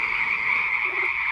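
Frogs croak in a dense continuous chorus, loud and steady throughout, used as a sound effect in a Bible story about a plague of frogs in a palace.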